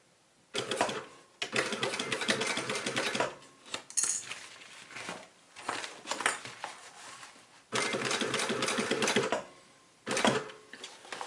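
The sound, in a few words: sewing machine stitching a bikepacking frame bag seam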